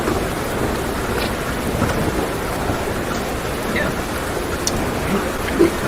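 Steady rain in a Talespire virtual tabletop game scene, a dense continuous hiss of falling water at an even level throughout, with a few faint spatters and low rumbles.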